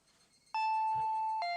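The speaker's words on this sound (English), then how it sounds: "That was when I heard the doorbell." A faint electronic doorbell chimes twice, a sustained bright tone followed by a second, slightly lower note, in a quiet room.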